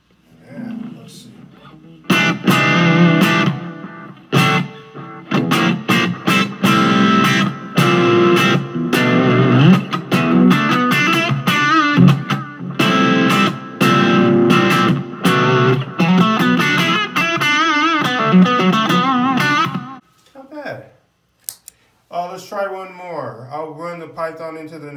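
An electric guitar played through a Caline Python compressor pedal feeding a black T drive pedal, giving loud, sustained, overdriven chords and notes that fade out near the end before a few softer, quieter phrases.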